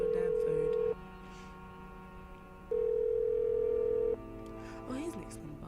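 In the video game Art of Murder, a phone call rings out unanswered: long, steady ringback tones repeat twice with a quiet pause between, followed by a short rising blip.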